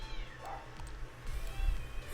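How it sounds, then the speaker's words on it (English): An angry stray cat lets out drawn-out, low, growling meows that rise and fall, fairly faint against a steady background hum, with no voices. "That cat is pissed."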